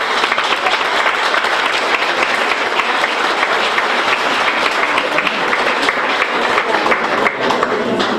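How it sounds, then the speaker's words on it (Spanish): A large crowd at a town festival presentation in Graus applauds loudly and continuously, a thick, even wash of clapping that fills the whole stretch. "Y pues para ellos un fuerte aplauso."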